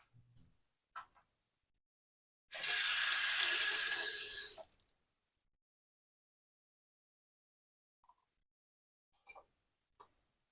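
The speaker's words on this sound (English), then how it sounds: "Wash my hands." Tap water runs for about two seconds in a kitchen sink during hand washing, steady and close, bracketed by faint clicks and small handling taps.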